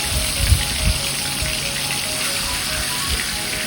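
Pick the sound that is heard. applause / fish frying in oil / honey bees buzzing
fish frying in oil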